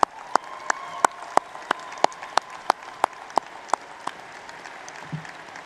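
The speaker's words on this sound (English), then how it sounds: "How about another round of applause, huh?" Applause at a Doctor of Medicine commencement ceremony in an event center, sharp regular claps about three per second standing out over a soft crowd wash, tapering off after about five seconds.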